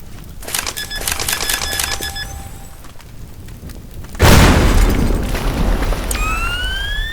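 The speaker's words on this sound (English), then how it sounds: "So let's put a couple bombs on this." Bombs detonate in the destruction sandbox game Teardown: after a stretch of chiming game sounds, one loud, wide blast hits at once and leaves a long, heavy roar of debris, with a rising whistling tone near the end.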